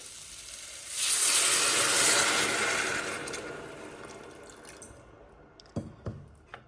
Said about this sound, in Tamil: இப்போ தேவையான அளவு தண்ணி விடுறேன்